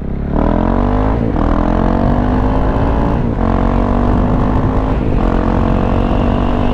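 A KTM 690 SMC A2 supermoto accelerating hard, its single-cylinder engine loud and close, pitch climbing through three gear changes with brief dips between each pull.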